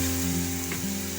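Milk goes into a pan of onion, ginger and garlic frying for a prawn malai curry, giving a brief, close, continuous hiss and sizzle at steady loudness.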